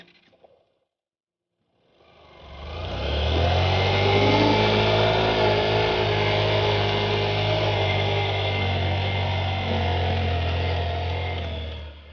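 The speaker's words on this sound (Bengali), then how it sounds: "আমরা এখন বাইক নিয়ে বিচে নেমে যাব বিচে বাইক চালানো খুব একটা সহজ কাজ নয়" A motorbike engine on a sandy beach at Saint Martin's Island, Bangladesh, starting from near silence, then revving up to a loud, steady mid-pitched drone that holds for about ten seconds before easing slightly, heard alone up close.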